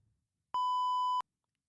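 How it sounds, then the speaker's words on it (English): A single steady electronic censor beep, clean and loud, holding for well under a second against silence. "I'm going to have to use the beep here"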